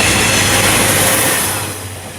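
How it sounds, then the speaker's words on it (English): A train passes near a station in Japan as a loud, broad rushing rumble that fades gradually toward the end, with no voices over it. "Oop, train."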